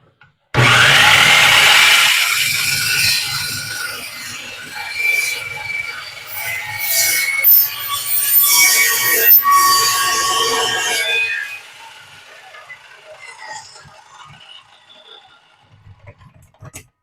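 A saw cuts through a steel receiver hitch on a trailer, a loud, steady grinding rasp for about eleven seconds that then drops away to a faint tail.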